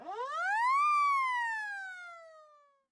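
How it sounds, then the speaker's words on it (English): A single siren rings out in a video game, a clean rising wail that peaks and then slowly falls away, thin and toy-like, heard alone without any talk. "A siren?"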